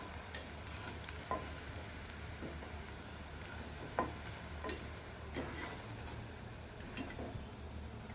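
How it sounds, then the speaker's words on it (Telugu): Leftover idli pieces fry in hot oil as idli fingers, making a quiet continuous sizzle with occasional small pops and ticks from the pan. "మిగిలిన ముక్కలన్నిటిని కూడా ఇలానే ఫ్రై చేసుకోవాలి"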